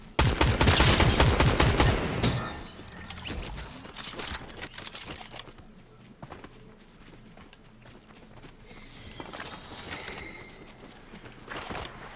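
Gunfire in the video game Fortnite: a loud, rapid burst of shots for the first couple of seconds, then quieter scattered shots and game sounds, with no talking.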